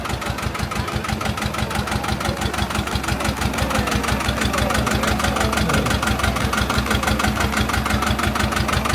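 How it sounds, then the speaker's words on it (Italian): Old tractor engines idle on a cold morning at Canale d'Agordo, a loud, close, steady mechanical chugging with rapid regular knocking pulses and a rough rumble throughout, unbroken by speech. "Si inizia anche ad accendere i motori dei trattori"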